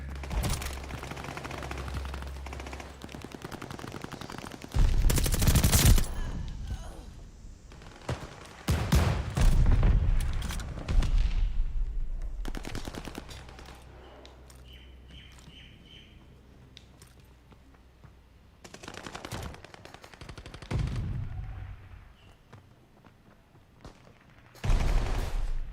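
Bursts of Type 100 submachine gun fire in a Call of Duty Vanguard multiplayer match, loud rapid volleys at intervals with quieter stretches of distant shooting and battle ambience between them.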